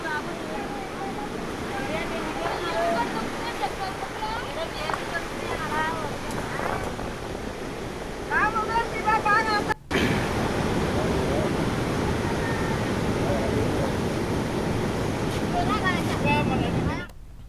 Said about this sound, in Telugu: మరోవైపు తీరంపైకి దూసుకొస్తున్న అలల్లో బంగారం వెండి నాణ్యాలు కొట్టుకొస్తున్నాయన్న ప్రచారంతో స్థానికులు వెతుకులాటకు దిగారు